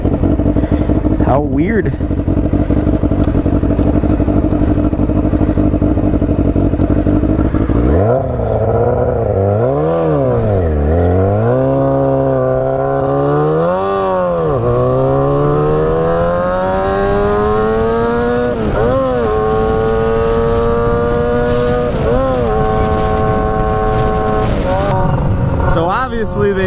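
A cheap budget motorcycle's engine runs loudly and close, idling then revving up and down repeatedly in rising and falling sweeps while the rider struggles to shift gears; a person speaks briefly.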